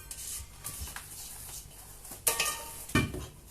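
Vegan marble cake batter is gently stirred with flour in a bowl. Soft, quiet scraping strokes are broken by a few sharper clicks of the utensil against the bowl.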